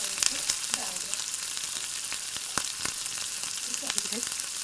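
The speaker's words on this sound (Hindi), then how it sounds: "ये तेल डाला हमने और इस ब्रेड को ऐसे उठाया और इस तवे पे डाल दिया" Bread frying in oil on a tawa gives a close, continuous crackling sizzle with frequent small pops and a few sharp spatula taps, no talking over it.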